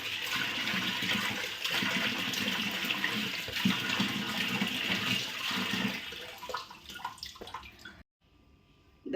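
Running cold tap water splashing steadily during face washing, close and continuous, stopping abruptly near the end.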